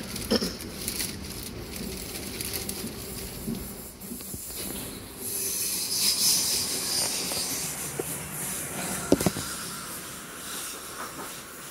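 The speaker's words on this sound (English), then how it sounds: "That was definitely not an Overground train, that was a Dartford bound Southeastern service" A Southeastern passenger train bound for Dartford or Gillingham passes on a London line, a steady broadband rumble and hiss that swells in the middle and holds for several seconds, with a few sharp clanks near the end.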